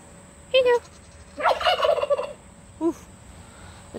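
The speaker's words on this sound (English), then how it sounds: "Oof. The turkeys are getting mad." Turkeys on a farm with goats, gobbling in several short, loud bursts: a quick call, a longer rattling gobble cluster in the middle, then a brief final call, with quiet barnyard background between.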